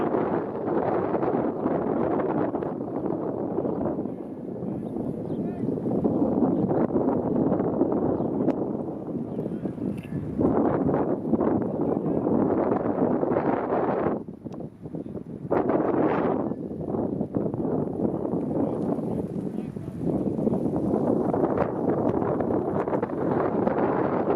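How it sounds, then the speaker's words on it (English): Strong wind buffets the microphone in continuous roaring gusts at an outdoor varsity baseball game, loud and close, with brief lulls between blasts. "a little bit windy. We're in a wind tunnel right now"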